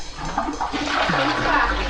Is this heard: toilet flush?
yes